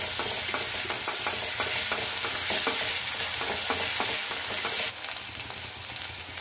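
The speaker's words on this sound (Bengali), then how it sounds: "এবার আমি আদা রসুন পেস্ট দিয়ে দিই" Ginger garlic paste sizzles and is stirred into fried onions for a Bengali potol chingri curry, a steady loud frying hiss broken by repeated scraping stir strokes, with no talk.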